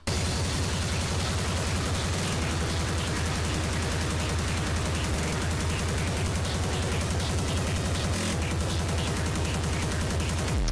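Speedcore drop in an extratone track: a dense, relentless wall of ultra-fast distorted kicks and harsh noise with crash cymbals and reverse crashes, loud and saturated throughout with no talk.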